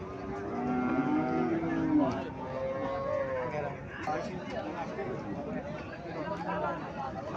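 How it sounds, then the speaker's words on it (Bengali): Cow at a cattle market lowing in a few moderate moos amid crowd chatter and people talking nearby. "এখানে গাভী দেখা যাচ্ছে"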